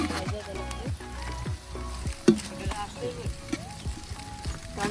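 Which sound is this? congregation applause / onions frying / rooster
onions frying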